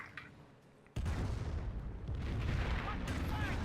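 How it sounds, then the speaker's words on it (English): A Nebelwerfer rocket barrage lands in a Company of Heroes match as a sudden deep boom. A dense rumbling roll of impacts follows and swells slightly louder over the next few seconds. "Another Nebel barrage goes down."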